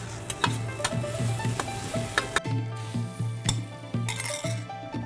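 A utensil scrapes and clinks repeatedly against a frying pan, stirring eggs into scrambled eggs over a steady sizzle on high heat, a quick irregular stirring rhythm up close.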